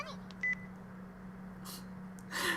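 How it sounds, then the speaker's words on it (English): Short electronic beeps from a phone hanging up in the Chaos;Child video game, a few faint tones over a steady low hum, the last burst louder and longer. "I hung up the phone before she could finish, and handed it back to Ito."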